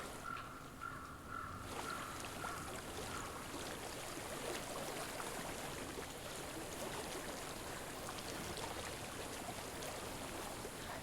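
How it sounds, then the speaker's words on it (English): Water flowing steadily in the video game Hellblade: Senua's Sacrifice, a continuous broad rushing wash that fills the scene from start to finish after a brief quieter moment. "I hear water. Go to it."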